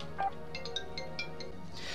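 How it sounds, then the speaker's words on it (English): Phone ringtone from an incoming call, a short electronic melody of bright beeping notes in a quick rhythm over a quiet, steady background. "I got a phone call"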